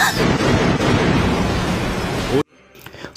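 Anime explosion blowing up a cave in Naruto: a loud, dense blast roar that holds for over two seconds, then cuts abruptly to near silence with a faint rustle after.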